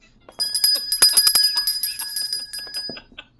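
A small hand bell is shaken rapidly for about three seconds, producing a bright, continuous jingling ring up close.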